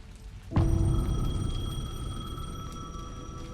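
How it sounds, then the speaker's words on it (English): Payphone ringing in Alan Wake 2, one sharp onset that turns into a sustained tonal ring with a low rumble beneath, steady and gradually fading over a few seconds. "The payphone was ringing."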